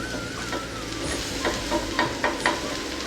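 Okra frying on a dosa griddle over a low flame, a steady sizzle with a few soft stirring scrapes and clicks standing out, close and continuous throughout.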